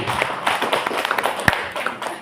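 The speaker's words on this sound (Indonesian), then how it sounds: "Tepuk tangan Bapak Ibu." Scattered clapping from a school audience in Sintang, West Kalimantan, with a few uneven hand taps and one sharper clap standing out, fairly close and modest in volume, no voices over it.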